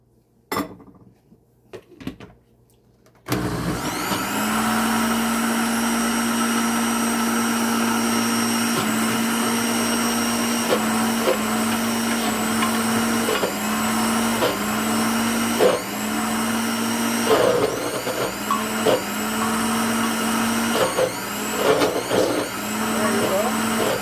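A blender whirs steadily through thick frozen banana ice cream, starting abruptly after a few quiet seconds and running loud and continuous with slight pitch dips as the mixture catches.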